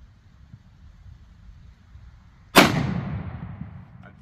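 A BFR 10-inch revolver fires a single sharp, very loud shot with a long echoing tail after a quiet lead-in, the round a 240-grain .44 Magnum hollow point; a faint low rumble of background noise runs beforehand.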